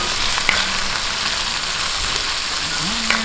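Onion and tomato sautéing in a pan for Filipino pork ribs pinatisan, a steady close sizzle with faint stirring, no talk.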